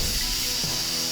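A kitchen pressure cooker steadily hissing steam, a loud continuous bright whoosh with no break.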